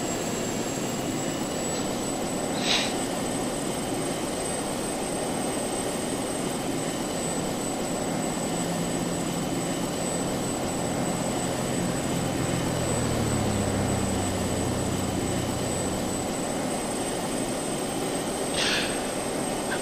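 A jet aircraft in Just Cause 2 drones steadily with engine roar and a high whine, a constant loud wash of noise with a slow shift in pitch midway and no speech.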